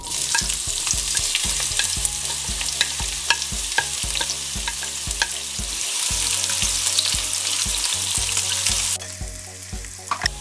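Onions fry in about five and a half tablespoons of oil in a kadai, giving a steady loud sizzle with rhythmic scraping and stirring strokes throughout, with no voices.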